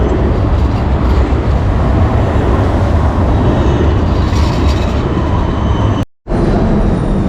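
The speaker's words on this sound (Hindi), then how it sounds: "उसके बाद अभी हमें मेट्रो लेनी है, अंडरग्राउंड ट्रेन आगे जाने के लिए" An underground metro train in Budapest roars loudly and steadily along the tracks, a close, dense rumble with rattling and a brief dropout near the end, no talking.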